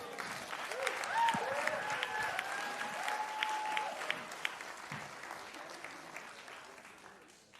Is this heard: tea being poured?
no